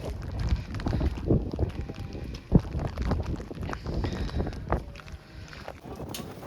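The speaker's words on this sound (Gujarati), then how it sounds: "અવાજ બહુ નહીં આવે કારણ કે પવન બહુ વધારે છે." Strong wind on a high peak of Girnar hill buffets the microphone in rough, uneven gusts, with rumbling blasts rising and falling throughout and one sharp thump partway through.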